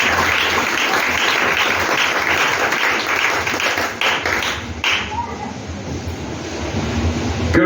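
A church congregation applauds and acclaims Jesus, a sustained, dense wash of clapping and crowd noise that holds steady throughout, thinning slightly near the middle before swelling again.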